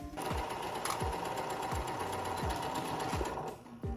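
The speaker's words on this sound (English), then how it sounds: "I'm going to pin this into place and then sew along this seam right here." A sewing machine steadily stitches a bodice shoulder seam for a Renaissance Faire costume, a close, continuous mechanical whir with a rapid rhythmic needle beat that slows and stops just before the end.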